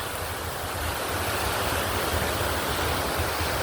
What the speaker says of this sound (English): we kind of made some little waterfalls.